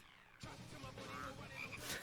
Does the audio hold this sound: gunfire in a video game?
no